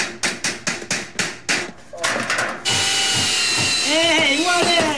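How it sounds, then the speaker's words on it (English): A hammer taps a metal channel support into a wall during home renovation work, a run of sharp, close, evenly spaced knocks. It is followed by a steady mechanical whir, and voices speak over the later part. "Can you knock it and tap it in with your hammer?"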